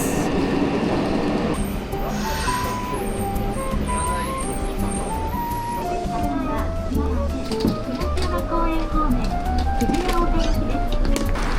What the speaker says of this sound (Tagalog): So, sasakay kami ulit ng train yan.